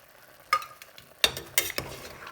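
A spoon scrapes and clacks through mutton curry with curry leaves and kasturi methi in a pot, three or four short stirring strokes over a faint sizzle, close and fairly quiet.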